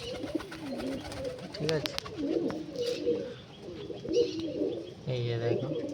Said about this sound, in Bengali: এই যে দেখো আমার সব মালয় পায়রা খাচ্ছে